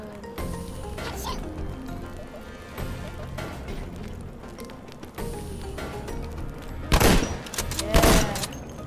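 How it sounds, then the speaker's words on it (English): Shotgun blasts in the video game Space Worms, two loud broadband bursts near the end over busy game noise and ongoing background sound, with people talking faintly underneath. "shotgun"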